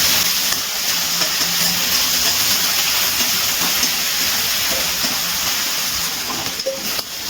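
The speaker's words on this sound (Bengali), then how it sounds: "গ্যাসের ফ্লেমটা হাইতে রেখে চিংড়ি মাছগুলো একটু হালকা ভেজে নেব" Prawns rubbed with salt and turmeric sizzle lightly in hot oil over a high gas flame, a loud, steady frying hiss that eases slightly near the end, with no talking.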